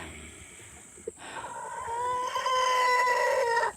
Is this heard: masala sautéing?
no